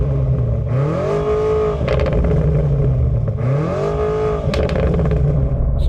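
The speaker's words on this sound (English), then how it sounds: "Rev it up." A new BMW M5 plug-in hybrid engine revs hard twice, each burst climbing sharply in pitch then falling back, loud and close with a steady throbbing idle filling the gaps.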